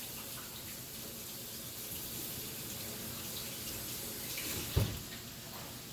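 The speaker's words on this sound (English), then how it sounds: "I'm going to just rinse these off." A kitchen tap runs steadily as peppers are rinsed under it, a close, continuous hiss of flowing water with a brief clunk near the end.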